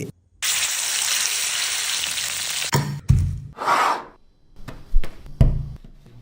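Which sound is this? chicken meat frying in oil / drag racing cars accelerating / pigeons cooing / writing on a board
chicken meat frying in oil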